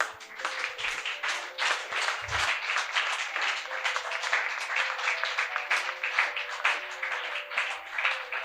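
Church congregation during a sermon claps and applauds steadily and warmly throughout, a dense rolling patter of many hands with faint voices and a soft sustained tone underneath.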